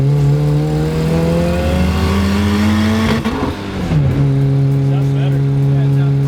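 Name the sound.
car engine revving under boost with turbo dump pipe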